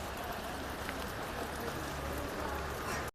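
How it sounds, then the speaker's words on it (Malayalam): Dense, even rain noise pours down without pause, a constant broad hiss at moderate loudness. "ഭയങ്കര മഴ ഇങ്ങനെ"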